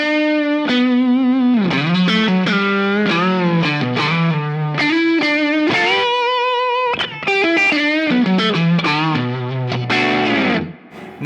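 An electric guitar plays a lead line through a Keeley Compressor Mini pedal into an amp's lead channel, with sustained, saturated notes and bends ringing continuously, loud and close.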